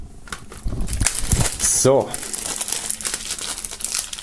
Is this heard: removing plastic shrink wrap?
yes